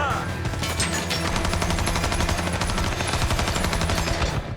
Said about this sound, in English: They love their machine guns, that's for sure.